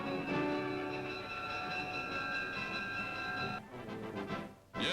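A special train sets off on a 1942 war bond tour, with loud, steady rolling rail noise and tonal whistle-like harmonics across the whole stretch, dipping briefly near the end.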